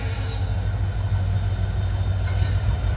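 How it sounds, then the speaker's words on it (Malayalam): Jan Shatabdi Express hauled by a diesel locomotive arriving at a station, a steady heavy low rumble of engine and rolling coaches held at a constant loud level throughout, with no talk. "ഇതേ പോകാനുള്ള ജനശതാബ്ദി എക്സ്പ്രസ് വന്നിരിക്കുകയാണ്."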